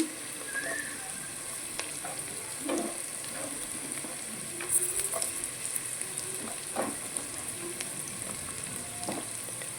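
Carrot pieces are tossed into a hot pan of semiya upma with capsicum, giving a steady crackling sizzle with scattered stirring scrapes and clinks throughout, close and moderately loud, with no talking.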